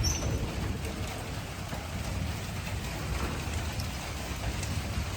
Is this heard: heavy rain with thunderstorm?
yes